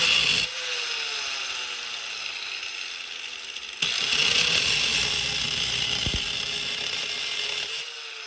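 Rough hand-sawing through a copper putter face held in a vise, a steady close rasp broken into two long passes with a brief pause between them.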